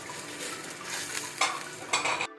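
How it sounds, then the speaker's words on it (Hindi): Tomato paste sizzles in a pan with garlic and ginger for spiced potatoes while a utensil scrapes and stirs against the metal, with a few louder clanks near the end, close and steady. "अब टमाटर भूनेंगे इसको हम ज़रा"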